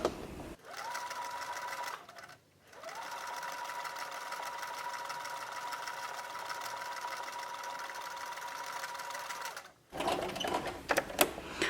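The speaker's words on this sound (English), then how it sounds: "Now I find I have the most success sewing on Velcro if I start on one of the sides" A sewing machine stitches hook and loop tape onto doll clothes, running in a steady, fast mechanical hum with a pause near the start and a stop toward the end, followed by a few close handling clicks.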